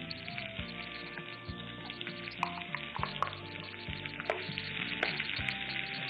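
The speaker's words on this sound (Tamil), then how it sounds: "வெங்காயம் நல்லா வதங்கணும்." Onions sautéing with green chilies in a pan for a Tamil wheat bread upma, giving a steady close sizzling and frying hiss over low musical tones, with occasional stirring clinks and no talk.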